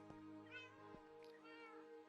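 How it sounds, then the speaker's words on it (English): Cats meow inside a video game, two drawn-out mews a second apart over a faint steady musical drone, quiet and close with no talk. "And these cats love to talk."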